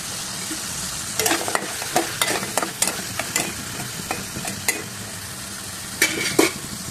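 Lentil dumplings (dal bori) frying in a pan, a steady crackling sizzle broken by repeated clattering stir strokes in quick bursts, close and fairly loud, with no talking.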